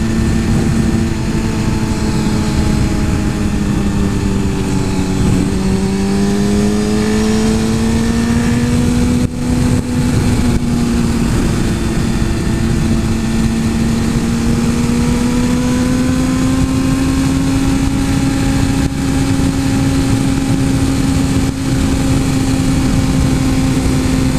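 A Suzuki GSX-R 1000 superbike engine holds a steady high rev around 8000 RPM on a track, a loud continuous droning whine that rises and falls slightly in pitch, close and unbroken throughout.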